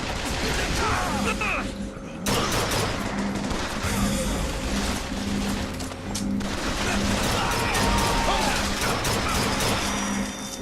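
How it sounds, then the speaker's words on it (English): Police gunfire in Bioshock Infinite crackles as dense, sustained volleys, loud and close, with shots arriving from several directions over a constant game soundscape. "Getting shot from everywhere this time."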